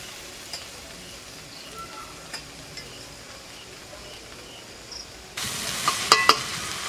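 Chopped tomatoes sizzle as they hit hot oil in a pan for a Bengali chira poa recipe, a low fry hiss rising sharply near the end with small clinks of stirring.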